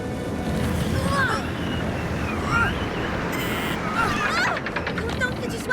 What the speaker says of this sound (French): C'est un sacré coup de vent.